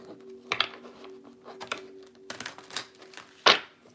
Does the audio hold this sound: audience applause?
no